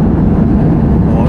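Inside an airliner on a flight from Hanoi to Nha Trang, a loud, constant low engine and cabin roar fills the brief moment.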